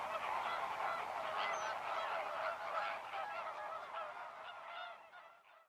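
Flamingos calling in a brackish wetland, a dense honking flock chorus, steady and moderately distant, fading slightly at the end.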